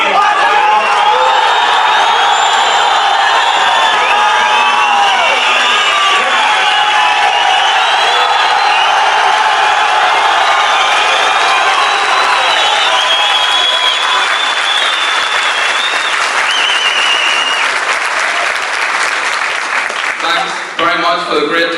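Large boxing-event crowd roars with sustained applause and cheering throughout, dense and loud, with whoops mixed in before tapering slightly near the end.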